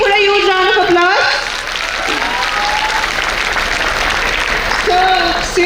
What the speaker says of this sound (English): So please put a huge round of applause.